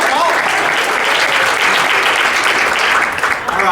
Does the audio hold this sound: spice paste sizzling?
no